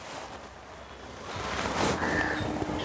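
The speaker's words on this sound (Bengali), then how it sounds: "অল্প অল্প করে তেলের পর ছেড়ে ভেজে নেব।" Sun-dried grated potatoes for jhuri aloo bhaja fry in hot oil over a medium gas flame, a continuous hissing sizzle like rushing surf that swells slightly partway through, with no voices.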